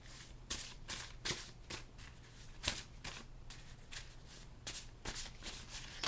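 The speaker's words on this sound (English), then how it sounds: "these are going to take me a little bit to shuffle because they're little mini papers" Soft, repeated riffling bursts of small handwritten paper slips being shuffled, close and quiet, in an uneven rhythm with no talking.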